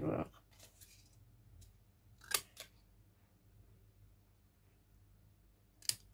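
Small scissors from an online haul snip through material, a couple of short crisp cuts around the middle and another sharp snip near the end, close and fairly quiet against a faint room background.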